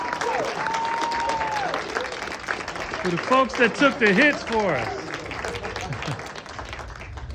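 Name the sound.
audience applause for stunt performers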